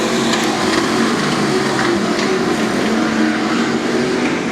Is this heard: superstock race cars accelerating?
yes